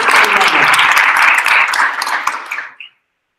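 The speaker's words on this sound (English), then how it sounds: "So if you can join me and give her another round of applause." A dense burst of audience applause at a university event, steady clapping that tapers off quickly and stops after about three seconds.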